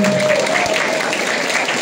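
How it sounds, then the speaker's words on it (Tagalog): An audience at an indoor founders night event applauding, a dense, loud burst of clapping from a crowd, with a voice faintly heard over it. "palakpakan naman natin"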